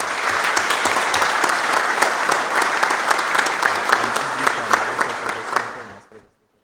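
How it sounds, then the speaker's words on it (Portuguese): Sustained applause from an audience at a solemn civic ceremony honoring workers in Cubatão, many hands clapping steadily and loudly for several seconds before quickly tapering off into silence. "Uma salva de palmas às autoridades presentes."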